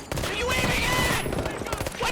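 Burst pistol fire from the 93R in the shooter game The Finals, rapid clustered shots crackling loudly and almost continuously across the clip alongside other gunfire and game action.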